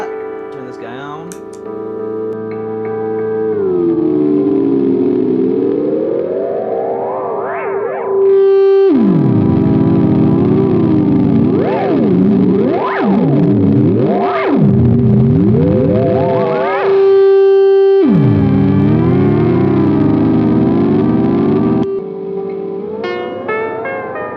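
An ENO Music AD-6 analog delay pedal sends a held tone through loud, warbling repeats whose pitch sweeps up and down in wavering loops, with sharp cut-offs and a steady drone running beneath.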